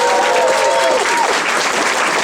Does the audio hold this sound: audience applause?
yes